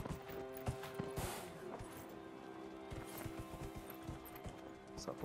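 A horse gallops in the video game Dragon Age Inquisition, with steady rhythmic hoofbeats continuing throughout against a busy in-game ambient background.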